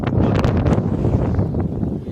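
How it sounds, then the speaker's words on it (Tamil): Strong wind buffets the microphone on a hilltop temple site near Karur, a steady loud roaring rush with gusty swells throughout, no voices. "காற்று அந்தளவு ஃபுல்லாக அடிக்குது"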